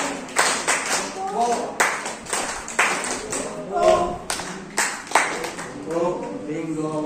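Hands clap in a steady rhythm during a children's singalong of the Bingo farmer-and-dog song, sharp claps filling the spelled-out beats with singing and voices in between.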